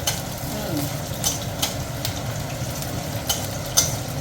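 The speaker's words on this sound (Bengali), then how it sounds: "এক মিনিটের ভেতরেই মাংস দিয়ে দিচ্ছ ভাজা হয়ে যাবে সামান্য" Rewaji goat mutton frying in a hot pan, a steady low sizzle with occasional stirring scrapes and small crackles, with faint rumbling background noise.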